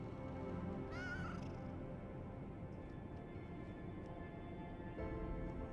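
A single short cat meow rises briefly in the video game Lies of P, heard over a steady low background drone of game ambience.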